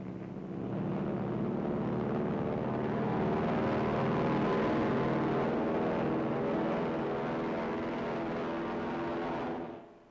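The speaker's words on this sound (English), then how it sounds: "The first planes take off at dawn." Navy planes of the 3rd Fleet taking off at dawn in 1944, a dense, steady propeller-engine roar that swells, holds for several seconds and then cuts off, with no voices.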